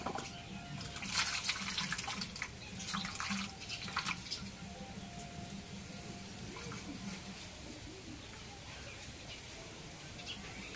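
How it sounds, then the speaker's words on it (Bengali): Tap water runs steadily as cut giant river prawns (golda chingri) are rinsed by hand, splashing louder early on, with faint speech and birds in the background. "এখন চিংড়ি মাছগুলো কাটা হয়ে গেছে, এখন ধুয়ে নেই।"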